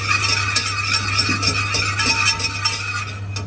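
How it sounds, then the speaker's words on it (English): Corn flour being stirred into a milk mixture in a pan, a steady scraping and clinking of spoon against the vessel that carries on continuously at close range over a low constant hum, with no talking. "Stir it."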